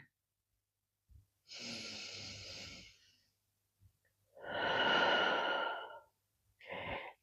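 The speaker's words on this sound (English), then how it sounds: "Take a deep breath here." Slow, deep breaths during a yoga practice: a long inhale, a fuller exhale and a brief final breath, close and alone in an otherwise quiet room.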